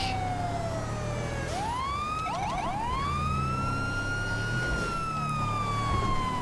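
A loud, close police siren in GTA V glides down, then jumps into a rapid yelp of short chirps before swelling back into a sustained wail over a rumbling engine drone.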